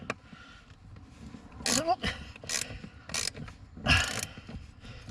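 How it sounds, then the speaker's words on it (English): A 1/4 inch ratchet turning a T30 Torx bit to undo seat screws in a 2009 Mercedes-Benz W204 C200, several short bursts of rapid clicking, close by, with someone speaking between them. "It's a couple of T30 screws, hence the T30 Torx bit on my 1/4 inch ratchet."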